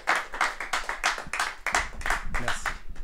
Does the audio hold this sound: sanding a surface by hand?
no